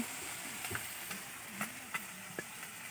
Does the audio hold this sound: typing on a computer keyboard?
no